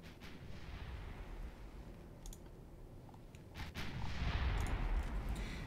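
Warship turret guns firing in the naval game Ultimate Admiral Dreadnoughts: a few sharp, distant cannon reports spaced several seconds apart over a low, rumbling sea-battle ambience that swells louder toward the end.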